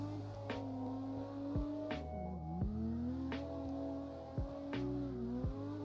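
A Toyota Mark II JZX100 in the CarX Drift Racing game drifts with a steady engine drone that climbs and drops through gear changes, mixed with tire squeal, at moderate, even loudness.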